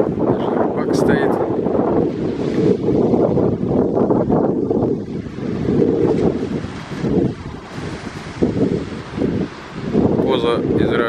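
Wind and surf on the Mediterranean shore between Akko and Nahariya in Israel, a steady broadband rush of moving air and breaking water with gusty buffeting, continuous and fairly loud throughout.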